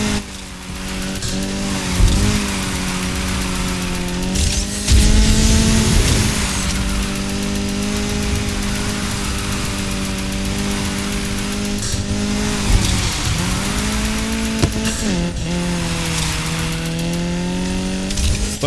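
A Ford Focus RS with a drift build in the racing game Need for Speed Heat revs hard and drifts, its engine note rising and dipping through gear changes with repeated tire squeal and skidding, loud and continuous, no talking.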